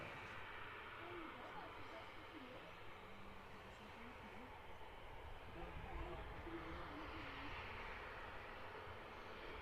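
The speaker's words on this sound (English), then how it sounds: "the Ryanair Boeing 737, taxiing out now" A Ryanair Boeing 737 taxis at Manchester Airport with a faint, distant jet engine whine and rumble that stays steady throughout. Soft people's voices sit quietly under it.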